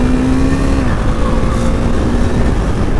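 KTM RC 390 motorcycle accelerating hard while overtaking on a cold highway toward Mandi, a steady loud engine roar with rising whine and heavy wind rush throughout.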